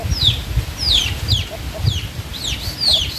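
Hens and a rooster fighting, with repeated squawks and agitated clucks over scuffling and flapping, close and fairly loud in a rough rhythm.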